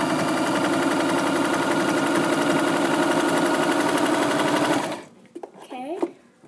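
A sewing machine runs steadily and loudly while stitching fabric for a scarf, a continuous fast mechanical whir for about five seconds that then stops abruptly, leaving brief quieter handling noises.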